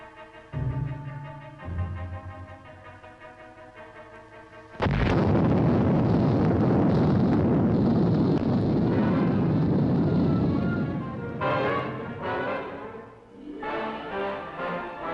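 A nuclear explosion at Yucca Flats, Nevada, heard on old archival military film: soft music gives way to a sudden, huge, sustained roar and rumble that lasts several seconds, then breaks into ragged bursts.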